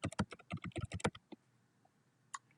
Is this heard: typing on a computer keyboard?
yes